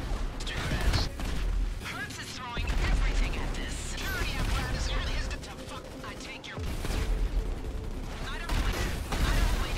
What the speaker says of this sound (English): Just shoot rockets at these weird, strong NPCs